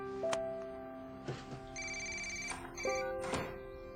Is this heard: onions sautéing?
no